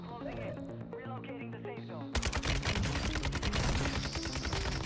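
Dual pistols fire in Warzone 2 as a rapid, dense burst of sharp shots that suddenly takes over after a quieter stretch with game music, loud and continuous, with faint talking beneath.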